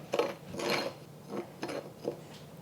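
A spoon stirs garlic powder and onion powder into a spice mixture in a bowl, a few soft scraping and rubbing strokes with light clinks, quiet and close.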